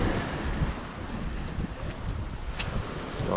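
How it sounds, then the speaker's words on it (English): Lake waves wash continuously at Little Sand Bay on a gloomy day under a small craft advisory, a steady surging rush heavily mixed with wind buffeting the microphone. "I could hear the waves a little bit."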